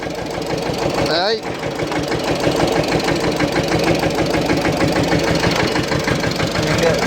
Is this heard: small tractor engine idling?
yes